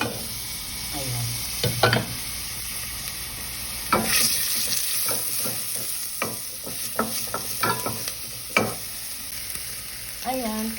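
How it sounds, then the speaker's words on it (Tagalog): Chopped onions sizzle in a little hot oil in a pan, a steady frying hiss broken by repeated scraping stirs, close and moderately loud with no talking. "Konting oil lang. Ayan. At ilagay na natin yung sibuyas."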